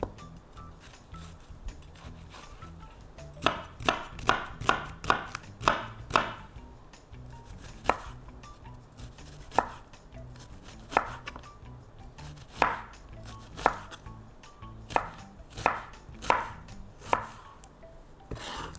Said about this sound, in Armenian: Կտրատենք սոխը։